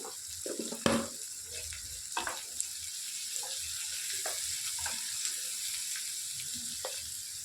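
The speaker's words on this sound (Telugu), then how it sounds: "హాఫ్ టేబుల్ స్పూన్ పసుపు కూడా వేసుకొని మంచి ఫ్రై చేసుకోవాలి" Sliced bitter gourd fries in a pan with turmeric, giving a steady, soft sizzling hiss with a few faint stirring clinks and no talking.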